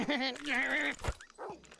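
A dog gives a drawn-out, wavering whine-bark close by, followed by a couple of short yips, with no talking.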